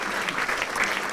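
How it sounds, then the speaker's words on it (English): Audience applause at a talk on traveling with a disability, a brief steady burst of many hands clapping close by, dense and even throughout. "Clap, clap, clap."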